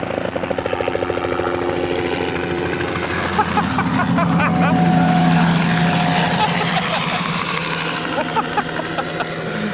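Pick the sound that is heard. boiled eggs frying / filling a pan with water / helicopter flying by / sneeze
helicopter flying by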